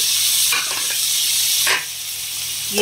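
Onions sizzling in a hot pan for a pepper chicken dish, a steady bright frying hiss with a couple of brief stirring scrapes, close and continuous, no voices.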